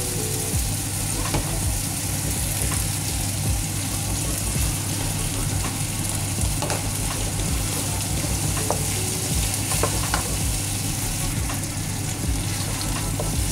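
Mala paste frying in a hot pan with garlic, a steady close sizzle and crackle with occasional sharp pops, over a constant low background hum.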